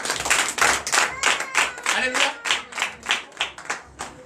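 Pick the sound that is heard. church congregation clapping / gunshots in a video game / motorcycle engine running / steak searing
church congregation clapping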